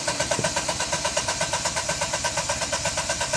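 A car engine running steadily just after cranking as the accelerator is pressed, with an even, rapid pulsing rhythm close up and no speech over it.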